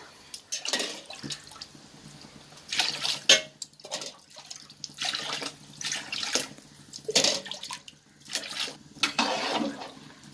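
Water pours in several uneven bursts into a pot for mutton biryani, splashing and gurgling nearby with short pauses between each pour.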